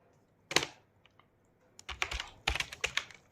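Computer keyboard typing while entering a JavaScript console.log line: a single sharp keystroke, a pause with a few faint taps, then a quick burst of clustered, close-up key clicks, with no voices.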